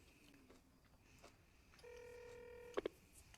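A telephone rings in a film scene, the bell tone sounding steadily against a quiet background and ending in a short clatter, like a receiver being picked up.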